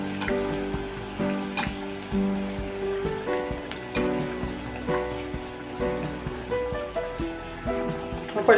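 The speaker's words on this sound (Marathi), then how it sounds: "तेल गरम झालेलं आहे. आता याच्यामध्ये सोडून घेऊया." Chirote pastries fry in hot oil with a steady, close crackling sizzle and bubbling that pulses gently throughout, without speech.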